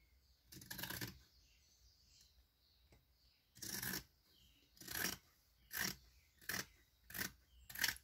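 Scissors snip through recycled fabric while trimming the uneven bottom edge of a homemade dish towel: a series of about seven short, crisp cuts spaced roughly a second apart, close up and fairly quiet, with no talking.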